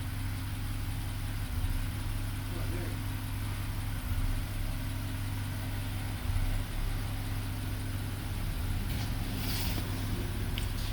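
A 2010 BMW 328i with a misfire idles steadily in a low, constant engine hum, nearby and even throughout with no talk over it.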